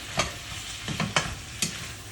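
Garlic fries in a pan for a noodle dish while being stirred, with four quick spatula scrapes spaced through a soft, steady sizzle and no talking.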